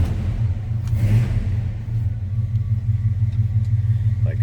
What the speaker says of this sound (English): Let's go ahead and start this up so you can hear it run.